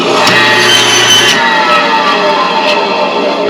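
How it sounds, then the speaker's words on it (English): A bandsaw runs loud and close as it cuts through a farm-raised hog carcass, giving a steady grinding whine with a rasping bite early on that eases into a smoother hum. "I'm going to have to make sure my bandsaw is tuned up just nice"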